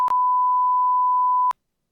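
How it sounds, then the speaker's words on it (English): A livestream censor button sounds a steady pure-tone beep, loud and unbroken for about a second and a half after a tiny click, then cuts off into silence. "It's going to hide that source so the beep stops playing"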